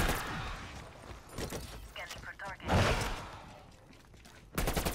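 Enemy cannon fire in Call of Duty Black Ops Cold War zombies mode at Firebase, heard as a few sharp bursts amid busy game noise, with a louder blast near the middle and another near the end.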